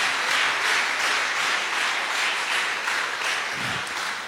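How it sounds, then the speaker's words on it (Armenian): An audience applauds after a vocal performance by singing students at a music school concert, a steady dense wash of clapping from many hands lasting throughout at moderate loudness. "Բարձր ծափահարենք բոլորին։"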